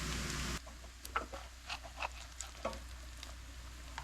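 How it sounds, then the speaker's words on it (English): Cantonese crispy noodles fry in hot oil in a home kitchen, a faint steady sizzle broken by soft crackles and pops, with a brief louder burst of hiss at the start. "This is Cantonese crispy fried noodles made for an American kitchen."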